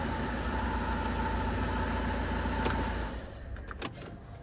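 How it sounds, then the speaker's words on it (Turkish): A car engine, one whose clutch has run 350,000 km, is running after being started on the starter, giving a steady close idle hum with a faint whine before the sound drops lower near the end. "Mecbur marşa bastık."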